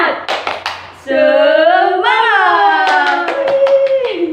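A classroom of young students claps a quick rhythmic 'tepuk semangat' pattern, with bursts of sharp claps at the start and end around a loud, sustained group chant in children's voices.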